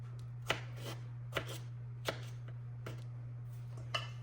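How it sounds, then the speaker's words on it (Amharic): A knife cuts fresh strawberries into small cubes on a cutting board, giving sharp, close taps at an uneven pace of about five chops, over a steady low electrical hum and no speech. "ይሄንን ስትሮበሪ ከትፈውና ቀጠና አድርጌ እንደዚህ 4 በ4 ማዕዘን"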